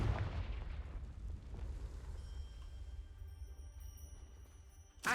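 The Confringo spell in Hogwarts Legacy goes off as a heavy booming blast that rumbles and decays over several seconds, with shimmering magical tones rising afterward and a sharp burst at the end.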